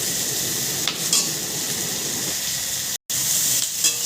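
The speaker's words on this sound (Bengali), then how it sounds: "কাঁঠালের দানাটাও একটু ভেজে নেবে হালকা করে।" Jackfruit seeds fry with prawns and onion in a kadai, giving a steady, close, broadband sizzle with a few brief stirring scrapes and one very short break.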